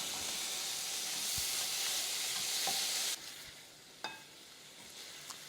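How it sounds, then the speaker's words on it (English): Sliced mushrooms hitting a hot pan and sizzling, with stirring scrapes, a loud bright hiss that drops to a quieter sizzle partway through, broken by a few sharp clicks of a utensil. "Now I'm going to be adding the sliced mushroom"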